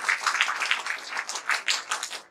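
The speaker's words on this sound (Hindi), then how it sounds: "एक बार जोरदार तालियों से हमारे एमडी सर का स्वागत किया जाए" Applause from a seminar audience welcoming the MD at a product training event, a brief burst of dense, lively clapping from many hands that fades near the end.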